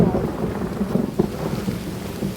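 Deep rolling thunder rumbles low and heavy, with rain pattering steadily underneath.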